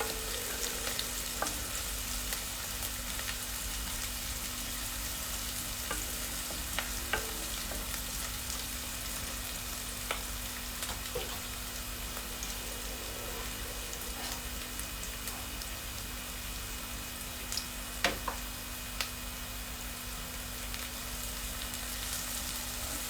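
Ginger and onions sautéing in a pan for prawn curry, a steady soft sizzle with occasional stirring clicks running throughout, close and continuous with no talking.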